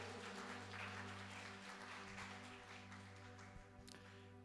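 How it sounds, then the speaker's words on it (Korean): Quiet applause from a congregation in a Korean church service, soft steady clapping over a low hum, with a few sharper claps standing out near the end. "우리 모두 하나님 앞에 영광의 박수 한번 올려드리겠습니다"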